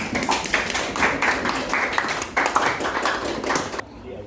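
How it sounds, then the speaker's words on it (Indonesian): A classroom group claps for all the students, loud close hand claps in uneven bursts with a few voices mixed in, cutting off abruptly at the end. "tepuk tangan untuk semuanya"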